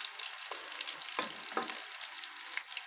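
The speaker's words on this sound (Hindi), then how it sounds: "ये पिसा हुआ जो है ना लहसुन, अदरक और हरी मिर्च का पेस्ट ये मैंने डाल दिया इसमें। अब मैं थोड़ी देर इसको भूनती हूँ।" A garlic, ginger and green chili paste fries with onions in a pan, giving a constant bright sizzle up close. Soft scrapes of stirring sound now and then.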